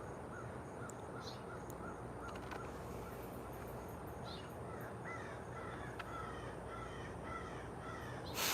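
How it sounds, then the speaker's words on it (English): A crow caws repeatedly outdoors in a garden, a series of harsh calls at middle distance over a steady noisy background, with several rapid caws near the end. "And the crow."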